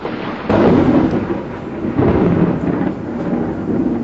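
Heavy rainstorm outside with rolling thunder, a loud steady wash of rain swelling into low rumbling surges several times, close and continuous with no talk.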